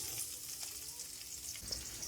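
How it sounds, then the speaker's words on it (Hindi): Onions sizzling steadily in hot oil in a karahi, a continuous bright hiss with small crackles, close and even throughout with no talking. "प्याज को हम हल्का सा फ्राई करेंगे।"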